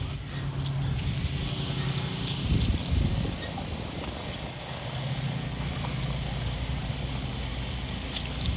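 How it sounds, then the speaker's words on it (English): Horse hooves clip-clop at a walk along a rural trail, a steady, moderately close rhythm over an outdoor background wash with a brief louder burst midway. "Try not to get distracted by the horsey"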